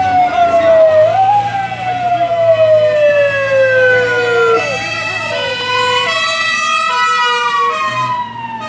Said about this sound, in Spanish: ¡Ahí viene una ambulancia, una ambulancia!